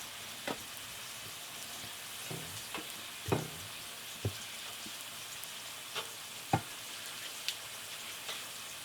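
Aloo paratha cooking in a pan, a soft steady sizzle with scattered crackles and occasional sharp pops, close and fairly quiet, no talking.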